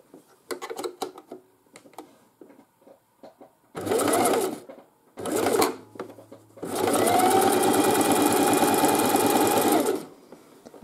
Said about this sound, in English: And now I do a seam that has stitches that go straight forward.